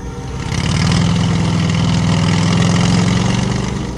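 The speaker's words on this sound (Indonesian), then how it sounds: "Suara motor tua meraung pelan" An old motorcycle's small engine idling loud and close, revving up smoothly after a moment and holding a steady, throbbing putter.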